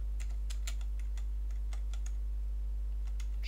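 Close, soft clicks of someone typing code on a computer keyboard in short irregular runs, over a low steady electrical hum.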